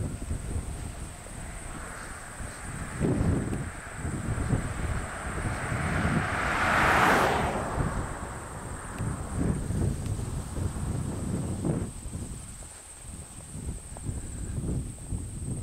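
A 1920 Locomobile Dual Cowl Phaeton rumbles steadily as it approaches and passes outdoors, its engine drone swelling to a peak midway under wind buffeting, then easing off as it moves away.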